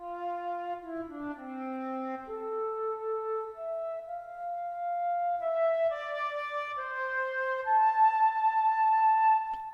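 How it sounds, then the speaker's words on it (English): Sampled flute from a VSL Special Edition library playing a flowing melodic line, notes first dipping low and then climbing into a brighter upper register, clear, solo and close. "Also flute, of course, which is a commonly used instrument from this section. Sounds like this."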